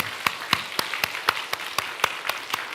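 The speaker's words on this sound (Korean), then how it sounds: "우리 뜨겁게 박수 한번 보내겠습니다." Worshippers at a Sunday church service clap together in a steady, evenly spaced rhythm for children and teachers celebrating graduation and school entry. The sharp, distinct claps repeat moderately loud for a few seconds.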